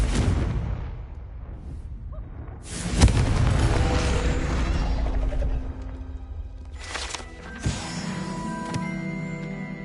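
Confringo fire spell blasting in the game Hogwarts Legacy, a loud booming explosion with a whooshing burst, followed by further rumbling impacts and a second blast near the end, with no talking.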